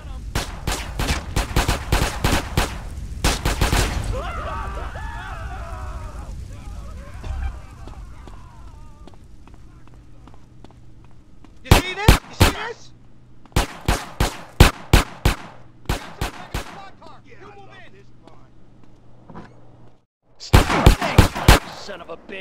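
Automatic weapons fire in GTA San Andreas during a heavy fight with the military: loud, rapid bursts of shots separated by quieter stretches, with background game noise in between.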